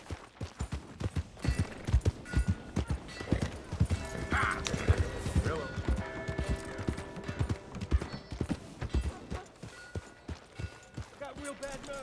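Steady clip-clop of horse hooves at a trot in the video game Red Dead Redemption 2, close and fairly loud, with a brief whinny partway through and faint background chatter.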